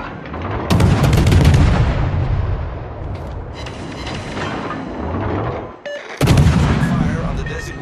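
Ship artillery gunfire in World of Warships, heavy booming salvos at the start and again near the end, with sustained rumbling between them, loud and close.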